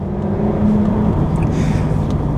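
A Jaguar XKR's 5-litre supercharged 510 bhp engine drones loud and steady from inside the car, a constant low rumble with mild rising revs and no talking.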